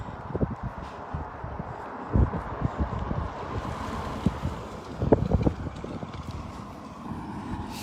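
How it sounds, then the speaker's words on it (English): Wind blowing outdoors gusts into the microphone as a steady rumbling roar with intermittent louder buffets, close and continuous throughout, with no speech. "The wind has picked back up."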